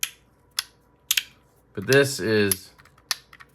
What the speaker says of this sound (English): Teflon balls, ceramic balls, they just have a better feel when they're clicking and clacking.